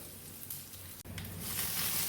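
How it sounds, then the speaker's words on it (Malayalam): Shallots and dried red chillies frying in oil for a Kerala pumpkin curry give a steady close sizzle, with a brief dropout near the middle before the crackle swells louder toward the end. "അതിലേക്ക് നമുക്ക് വാറ്റൽമുളക് ഇട്ട് വെക്കാം. അത് ഒന്ന് ഫ്രൈ ചെയ്തെടുക്കാം."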